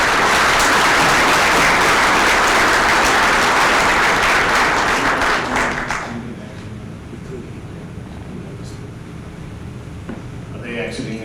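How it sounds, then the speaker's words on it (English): An audience at a superintendent of the year award banquet gives loud, sustained applause that fades out after about six seconds, leaving a quieter room with a few scattered noises and faint voices. "Let's give them one more round of applause."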